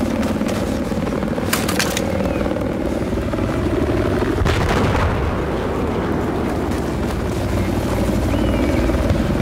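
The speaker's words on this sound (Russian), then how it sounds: "Обнаружена вражеская вертушка." An enemy helicopter in the video game Battlefield 4 roars loudly with a steady, continuous rotor drone, mixed with distant explosions and artillery-like blasts.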